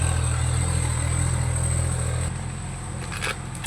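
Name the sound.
tractor passing on the road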